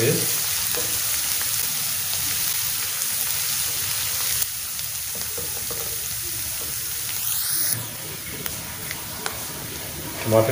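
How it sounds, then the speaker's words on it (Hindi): Ginger-garlic paste crackles and sizzles continuously in a hot pan, close up, with occasional stirring scrapes and a voice speaking over part of it. "अच्छी तरह इनको फ्राई कर लेते हैं ताकि अदरक और लहसुन का जो कच्चापन ख़त्म हो जाए"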